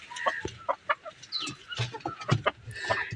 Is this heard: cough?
no